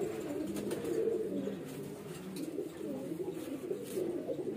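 A gifted highflyer pigeon coos softly in low repeated rolling calls against a faint background hum, with no talking.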